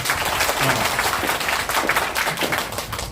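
A workshop audience of headmasters claps steadily, a dense, even wash of applause that holds for a few seconds without a break.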